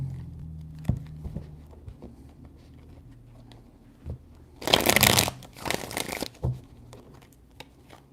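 Tarot cards are shuffled in short bursts, a loud riffling rush followed by two briefer flicks, after quiet moments with faint handling taps.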